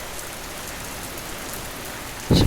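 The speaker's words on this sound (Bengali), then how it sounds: "সকাল সকাল দেখো কত সুন্দর বৃষ্টি হচ্ছে।" Morning rain falls in a steady, even hiss for a couple of seconds, then ends with a sudden louder burst of noise near the end; no voices.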